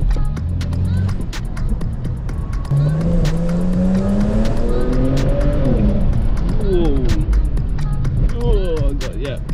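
BMW 335i or 435i accelerating hard with wheelspin and little traction, the engine revving and rising in pitch through gears under loud road and tire noise, recorded from inside the car with a man exclaiming over it.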